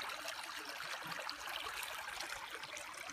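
A small stream flows steadily in the wild, giving a soft, continuous rush and trickle of water that sounds close but quiet, with no voices over it.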